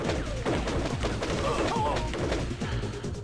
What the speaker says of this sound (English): Am I actually being shot by him?